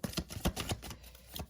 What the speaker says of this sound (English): Y'all see me shuffle.